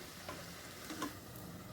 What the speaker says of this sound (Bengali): বেশ সুন্দর লুচিগুলো ফুলছে